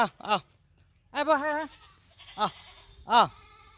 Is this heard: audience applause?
no